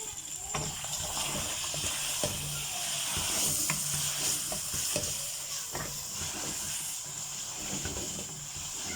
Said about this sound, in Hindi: ये देखिए जी, देसी घी डाल दिया मैंने जी